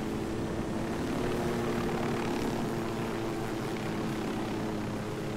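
A helicopter in Ghost Recon Wildlands flies steadily, its engine drone and rotor hum holding loud and constant with no voices.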